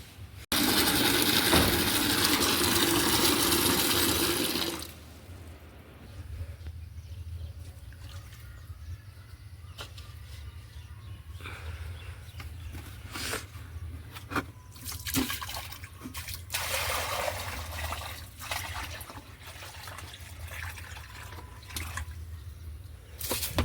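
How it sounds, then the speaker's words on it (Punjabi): Water is poured out for a street dog, a loud, steady splashing rush lasting about five seconds, followed by quieter scattered knocks and rustles. "ਚੱਲ ਪਹਿਲਾਂ ਪਾਣੀ ਪਾ ਦਈਏ"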